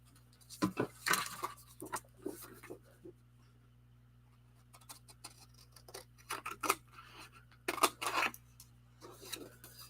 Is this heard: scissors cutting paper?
yes